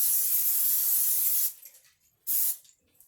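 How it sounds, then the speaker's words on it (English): Olive oil cooking spray hisses inside a Tupperware stack cooker in a loud, steady burst of about one and a half seconds, followed by a second short spritz after a brief pause. "spray the inside of this with this olive"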